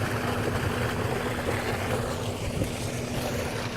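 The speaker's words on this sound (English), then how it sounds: "Hey, there's a waterfall." A waterfall pours across a rural road, giving a continuous, even rush of falling water with no voices over it.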